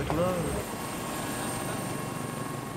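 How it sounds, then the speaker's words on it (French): A police helicopter flies in pursuit of a drug smugglers' go-fast boat, its rotor drone steady and fairly loud throughout under a voice that speaks at the very start. "l'hélico se lance à la poursuite de celui qui semble le plus chargé"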